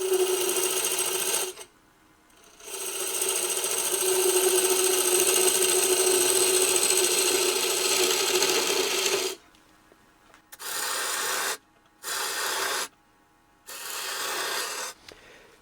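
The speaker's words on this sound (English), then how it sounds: "I'm going to use my wide parting tool and mark the waste area that we're going to turn away" A wide parting tool cuts into a wooden gavel spindle turning between centers on a lathe, making loud, rasping scrapes in several bursts of different lengths, separated by short silences.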